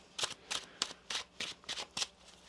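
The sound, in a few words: shuffling tarot cards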